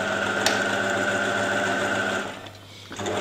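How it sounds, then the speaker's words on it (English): A sewing machine runs steadily while backstitching a seam, a continuous mechanical whir with a brief click early on. It stops short near the end before a faint restart, with no talk. "When backstitching, just backstitch a few stitches forward and a few stitches backwards."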